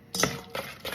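A spoon scrapes and taps around a bowl while batter is mixed by hand, three short stirring strokes close and fairly quiet.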